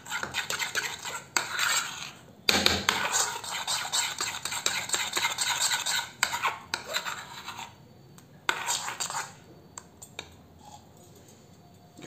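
A thick mixture is stirred briskly in a bowl set in cold water, giving rapid scraping and clinking of a utensil against the bowl, loud at first and then in intermittent bursts that trail off toward the end.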